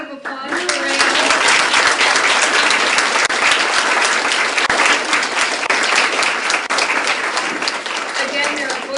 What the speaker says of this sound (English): Round of applause for Rae.